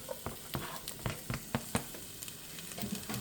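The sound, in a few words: celery and onion sautéing in pot for jambalaya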